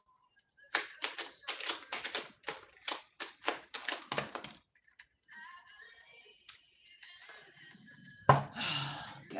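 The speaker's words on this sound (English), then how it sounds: "For Kelly, I'm gonna shuffle whatever comes out" Playing cards are shuffled in quick riffling bursts, a run of crisp flutters and taps, followed by quieter sliding and a final sharp riffle, close by with no talking.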